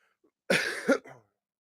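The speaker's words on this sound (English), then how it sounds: "I'm gonna cough up another lung in the process." A single harsh cough bursts out close and loud, followed by a shorter, weaker second cough, from a person sick and on night medication, with silence on either side.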